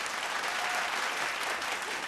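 Dense, steady audience applause at a vocal competition show, a continuous even wash of many hands clapping at moderate volume without standout claps, acknowledging an accommodation partner.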